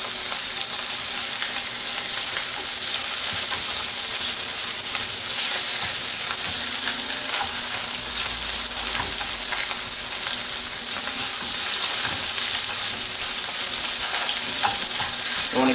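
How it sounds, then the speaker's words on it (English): Eggs and ham frying in a pan, with a steady close sizzle and occasional stirring scrapes running unbroken throughout, no voices. "Just gonna cook it a little bit longer with the ham,"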